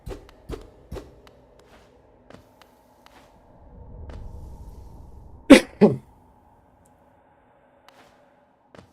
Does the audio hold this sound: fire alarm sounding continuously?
no